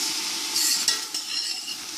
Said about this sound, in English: So I'm going to just let this saute for a couple minutes to get some of these vegetables softened.